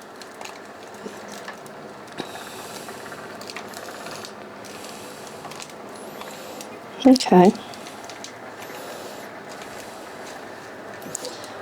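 A small cordless handheld vacuum, a dustbuster, gets kicked across the floor during houseplant repotting, giving one brief knocking clatter midway through, with low background noise and a voice speaking around it.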